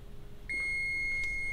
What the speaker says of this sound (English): that beep tells us that we have continuity